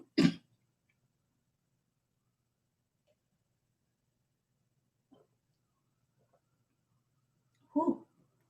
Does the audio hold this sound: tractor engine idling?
no